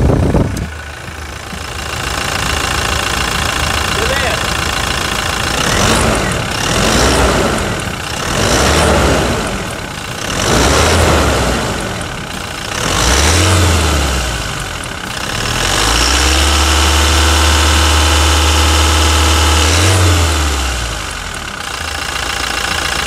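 A lowered Toyota Hilux engine cranks, then idles loudly and close, with a rough, knocking mechanical throb and occasional revs swelling and falling back, and no talking over it.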